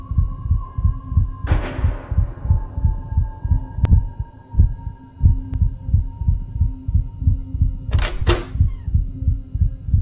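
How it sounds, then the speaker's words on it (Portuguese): A steady, throbbing heartbeat from the horror video game Inside the Backrooms pulses in a regular, continuous rhythm for the whole stretch, broken by a couple of brief thuds and bursts of noise. "Batimento cardíaco."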